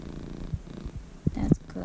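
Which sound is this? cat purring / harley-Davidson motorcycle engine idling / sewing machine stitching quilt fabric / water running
cat purring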